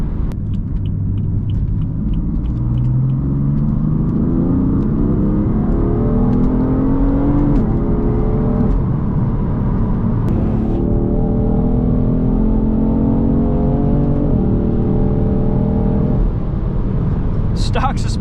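A 200,000-mile BMW M3 on stock suspension driven along back roads, heard from inside as a loud continuous engine rumble that climbs and eases through several gear changes, with a voice talking over it throughout.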